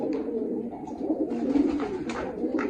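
Pigeons cooing in a loft where birds are kept for sale, several soft overlapping coos and throaty murmurs close by, continuous and moderately loud with no talking.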